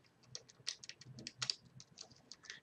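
Fingers tap out a quick, irregular run of keystrokes on a computer keyboard, close and fairly quiet, with crisp clicks and no talking.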